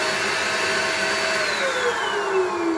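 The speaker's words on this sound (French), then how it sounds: "il faut que je passe l'aspirateur avant" A household vacuum cleaner runs loud and close with a steady whine whose pitch slowly slides downward, with no voices over it.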